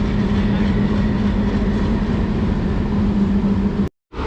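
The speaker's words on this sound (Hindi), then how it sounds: "बाकी यहाँ पे ये शंटिंग का काम कर रहा है। WDM 3D है ये" A WDM 3D diesel locomotive shunting in an Indian railway yard rumbles loudly and steadily with a deep engine drone, then cuts off abruptly near the end.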